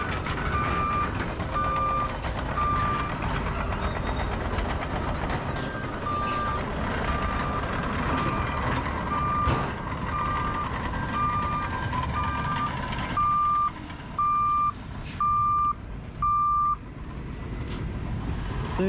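A Volvo truck backs up at a wood and C&D recycling yard, its backup alarm sounding a steady string of loud, evenly spaced beeps over a constant engine rumble.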